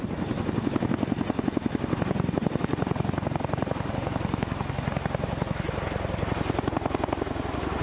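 A Chinook military twin-rotor helicopter thumps steadily and rhythmically with rapid, continuous blade chop and broad engine roar, holding an even loudness throughout.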